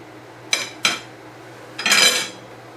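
Cutlery scrapes and taps against a plate while cutting into beef hash topped with a runny egg: two short sharp clinks, then a longer scraping pass, close and clear with no talk.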